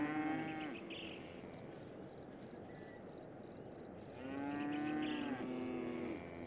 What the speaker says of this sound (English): A group of curious cows go for a closer look.